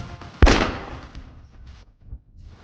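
A single sharp gunshot aimed at a target board, loud and close, with a booming tail that fades over about a second before quieter faint noises follow.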